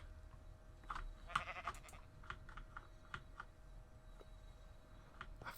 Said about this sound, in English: That sheep has got to shut up.